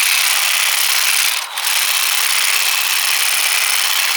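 A power trimmer runs steadily on an allotment, a loud, close, continuous buzzing motor with one brief dip in pitch near the middle and no talking.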